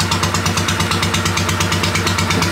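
A Honda GX390 18HP engine runs steadily on a small boat, giving a loud, close, rhythmic mechanical drone with even pulsing throughout.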